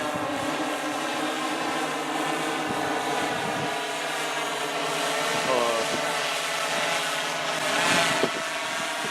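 The NavX aircraft drones steadily as it flies, a continuous engine hum with shifting tones, mid-distance and fairly loud, with no speech over it.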